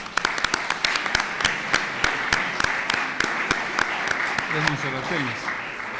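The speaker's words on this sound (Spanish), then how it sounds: "Pido un aplauso también para Luis" Audience applause at a talk on artificial intelligence, fake news and political campaigns, with dense steady clapping and sharp individual claps standing out, running throughout at moderate level, and a brief voice near the end.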